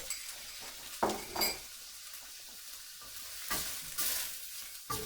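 Noodles with a pre-mixed sauce stir-fry over the highest gas flame, a continuous sizzle broken by a few sharp bursts as sauce hits the hot pan and spatula scrapes and clinks against the wok.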